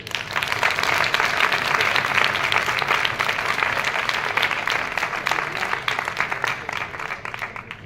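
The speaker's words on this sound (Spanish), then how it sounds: "Un aplauso." An audience at an ex-alcoholics' association event in Fuenlabrada breaks into sustained applause, dense steady clapping that holds for several seconds and slowly thins toward the end.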